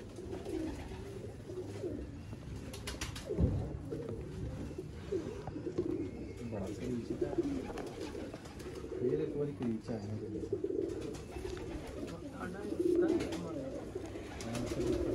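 Pigeons cooing softly and repeatedly, low murmuring calls over a muffled background with voices talking faintly.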